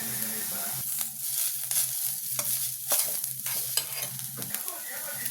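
Curry leaves, coriander, chana dal, urad dal and a piece of tamarind sauté in a pan for parandai chutney, giving a steady soft sizzle with repeated scraping stirs throughout.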